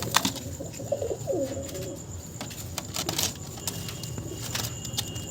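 A few soft, low coos come from quality pigeons in a Nadia loft, mostly in the first two seconds, followed by scattered clicks and taps over steady ambient noise.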